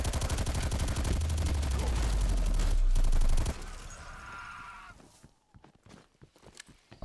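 Rapid automatic gunfire mowing down zombies in a video game, a dense, loud, continuous rattle for about three and a half seconds, then scattered fainter shots and clatter.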